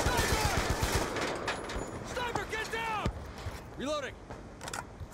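Rapid automatic gunfire firing through a wall in the shooter game Black Ops 2 on PC, a quick burst of shots at the start followed by game sound effects and speech.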